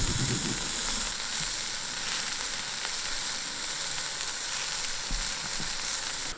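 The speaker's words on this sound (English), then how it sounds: "The sausages are sweating like crazy." Sausages cook over a campfire at a bushcraft fort, giving a dense, steady sizzle that stays close and constant, with faint low rumbles and no voices.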